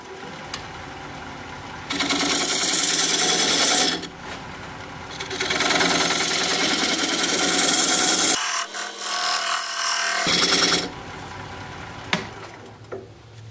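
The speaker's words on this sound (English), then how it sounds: "Now I'm going to use this diamond point tool to square up the sides of the tenon." A diamond point tool squares the sides of a black walnut tenon on a spinning wood lathe, giving loud, rasping bursts of cutting that start and stop several times with quiet gaps between them.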